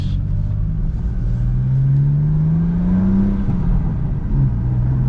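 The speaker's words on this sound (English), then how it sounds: "A little burble. A little downshift." Low engine rumble from a BMW M4 Competition fitted with an AWE SwitchPath exhaust, burbling steadily as the car downshifts, with a rising then falling tone; close and fairly loud, no talk.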